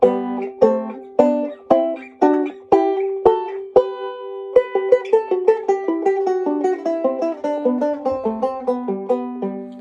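A guitar plays a melodic line of plucked double stops in thirds, starting with slow, spaced strums and then speeding into a quicker run of notes.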